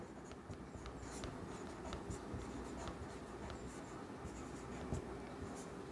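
Chalk or a marker scratches and taps across a board while a math problem on rectangle and square areas is worked out. The strokes come in short irregular bursts over a soft, steady room hiss.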